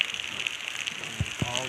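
Heavy rain falls with hail in Lashari. A faint, steady hiss of rain runs throughout, with two soft dull thuds near the end.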